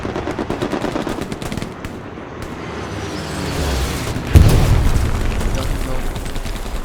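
Rapid machine-gun fire rattles steadily in a Hell Let Loose battle, then a heavy artillery boom hits midway and leaves a rumbling roar beneath continued gunfire, while players talk over the chaos.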